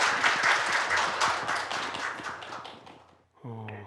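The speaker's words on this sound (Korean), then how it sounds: "다시 한번 박수로 맞아주시기 바랍니다" An audience applauds warmly to welcome a speaker at a lecture hall talk, with brisk, full clapping that fades out before a voice begins speaking close to the microphone.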